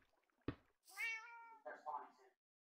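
A Minecraft cat gives two short meows, the first a clear drawn-out call and the second a brief, broken one, close and distinct in a quiet game scene after a sharp click.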